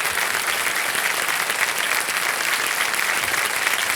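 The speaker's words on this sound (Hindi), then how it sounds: "जोरदार तालियां बज जाएंगे।" Loud studio audience applause on the set of Kaun Banega Crorepati Season 14, a steady dense wash of clapping sustained throughout with no voices over it.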